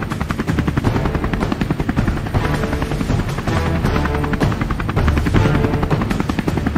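A remote-control helicopter's rotor thumps steadily and loudly throughout, a dense rapid chopping with a constant engine whine underneath.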